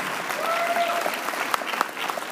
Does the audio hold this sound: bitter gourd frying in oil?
no